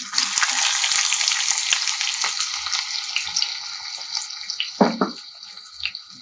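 Finely chopped onion hits hot oil already crackling with cumin, mustard seed and curry leaves for sooji moong dal khichdi. A loud, bright sizzle slowly settles, with a couple of clanks from a stirring spoon near the end.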